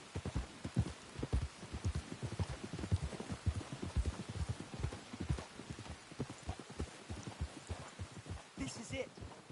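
Horse hooves clip-clop steadily at a walking pace in the western video game Red Dead Redemption 2, a continuous run of quick overlapping hoofbeats at moderate level, with occasional faint talk and a brief snort near the end.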